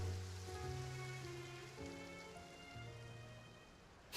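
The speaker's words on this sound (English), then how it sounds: "It rained for longer than I suspected." Rain falls steadily in the video game Genshin Impact, a soft continuous hiss under sustained music chords, with no talking.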